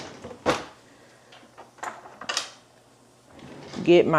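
Kitchen utensils being pulled out for cooking biscuits and sausage: a whisk and a heat pad taken from a drawer, with several short clattering knocks and bumps spaced apart, then a louder rattle near the end.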